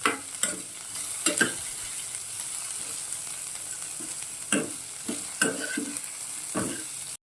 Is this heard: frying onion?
yes